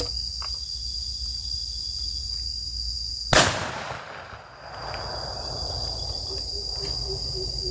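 A gas-fired bird-scaring cannon with a rechargeable electric igniter gives a single loud, sharp blast that rings out and decays over a steady outdoor drone of insects and crickets.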